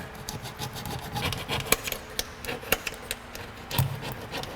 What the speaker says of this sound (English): I'm just gonna scribe down the one side.